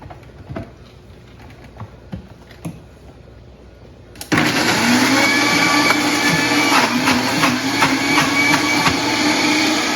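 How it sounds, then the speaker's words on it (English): Scattered clicks and light knocks, then a blender pureeing food suddenly roars to life and runs at a loud, steady whir until the end. "We put it in the blender"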